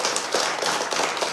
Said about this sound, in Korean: 우리 찬양대를 위해 박수 한번 하겠습니다.